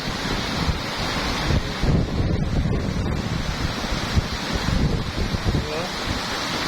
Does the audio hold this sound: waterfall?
yes